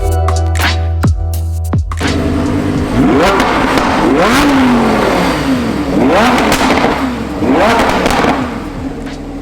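A 2018 Lamborghini Huracan engine revs loudly and close by in a shop, rising and falling in several sharp throttle blips after a brief idle start.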